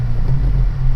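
A 2020 Honda Civic Si with a manual clutch and an aftermarket muffler, heard while driving: a loud, steady low exhaust drone and engine rumble, continuous and close, with no talking.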